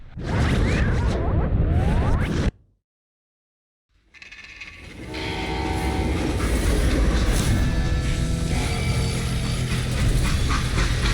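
Loud rumbling and clatter of a moving freight train, broken by a brief silence, then the steady mechanical rattle resumes and builds.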